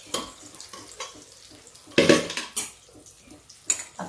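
A pan of cooked vegetables being handled and lifted off a stove, with metallic clanks and scrapes of cookware and utensils and a faint sizzle of hot oil between them, close by and with no talk.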